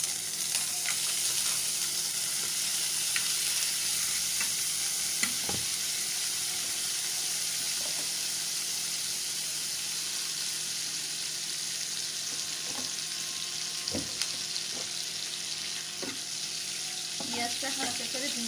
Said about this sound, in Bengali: পেঁয়াজটা হালকা করে ভেজে নেব আমি।